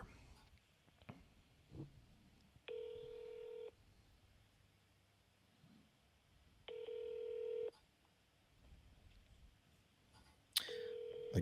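Telephone call with dialing tones followed by repeated ringback tones, three evenly spaced rings with quiet gaps between, heard faintly over a low room background.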